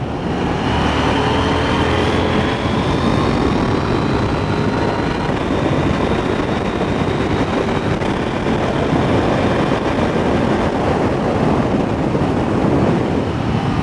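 A KTM 890 Duke R motorcycle engine drones loudly and continuously while riding, its tone rising and shifting under acceleration, with heavy wind rush and no voices.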